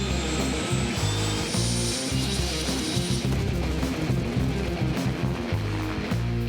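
Loud, steady rotor thrum of a nearby helicopter in the jungle with a rhythmic low beating and high turbine whine, continuous throughout.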